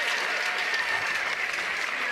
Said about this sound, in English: The crowd is going nuts for Tyra Black.